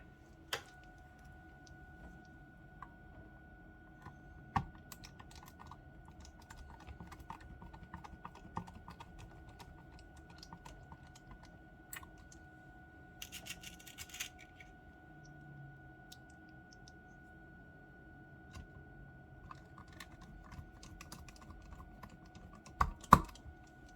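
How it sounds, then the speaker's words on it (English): M2 self-tapping screws, 7mm long, being driven by hand with a magnetic screwdriver, giving faint, irregular clicks and ticks across the whole stretch, with a sharper knock near the end. "start screwing them in. Use M2 self-tapping screws"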